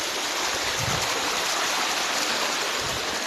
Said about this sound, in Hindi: तो यहाँ से ये पानी आगे आ रहा है